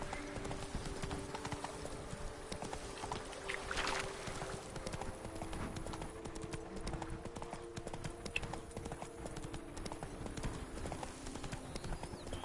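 Horse hooves clip-clopping at a steady, rapid galloping rhythm in the video game Witcher 3, continuous and fairly close over a soft game soundscape with a brief whinny-like sound.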